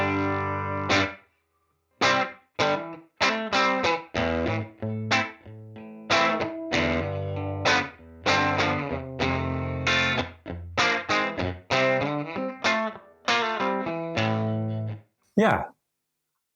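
Clean-toned electric guitar plays short plucked chords and notes in choppy bursts separated by silences, close and fairly quiet, with no talk.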